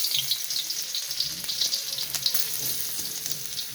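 Garlic sizzles steadily in hot oil in a pan, a close, continuous crackling hiss with small popping bursts throughout.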